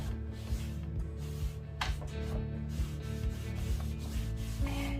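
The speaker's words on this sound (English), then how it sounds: "Come back with the clean microfiber cloth, take all the excess" Clean microfiber cloth wiping excess finish off a smooth surface, soft repeated rubbing strokes in a steady rhythm, quiet and close, with no voices.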